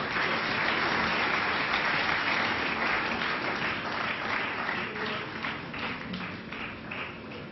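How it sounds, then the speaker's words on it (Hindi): Thunderous applause from an awards ceremony audience welcoming honoree Shri Mangeram Agarwal, a dense, steady roar of many hands clapping that fades slightly toward the end, with no speech over it. "तालियों की गड़गड़ाहट के साथ स्वागत कीजिए श्री मांगेराम"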